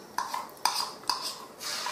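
Garlic chutney going into hot oil in a pan, heard as a few sharp metallic clinks of a spoon against the pan, spaced about half a second apart, over a faint background hiss.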